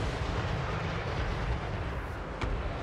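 Rocket artillery fires in the Total War Warhammer 3 video game, a dense continuous low rumble of launches and booms with a brief sharp crack near the end, fairly loud throughout.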